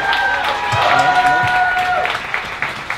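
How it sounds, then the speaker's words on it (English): An audience at a live poetry slam breaks into loud applause and cheering, close and full, with whoops and voices mixed into the clapping throughout. "Yes, give yourself a round of applause."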